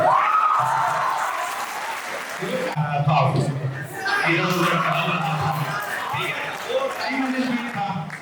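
Audience at an exam-aspirants meetup in Muzaffarpur clapping, a burst of applause at the start that fades under a speaker's voice and crowd chatter.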